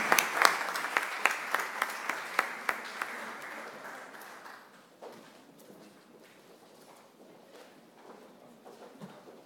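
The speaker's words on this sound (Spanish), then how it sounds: "Y un aplauso a los defensores sociales que lo hacen gratuitamente" Audience applause for social defenders at a labour law congress, sharp claps ringing out strongly at first, then thinning and fading into scattered, quieter clapping.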